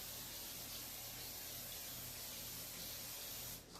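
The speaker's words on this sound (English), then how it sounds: "Now I'm going to spray my board." Super glue accelerator sprayed onto a wooden board for a chess shelf: a steady, close aerosol hiss running continuously for several seconds before cutting off near the end.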